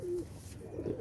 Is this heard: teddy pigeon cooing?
yes